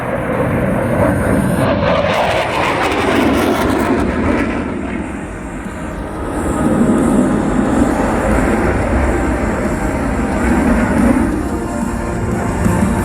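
An RAAF F/A-18 Hornet jet in a flying display at an air show, a loud continuous roar that dips in power midway and then swells again, heard from a distance with no talk.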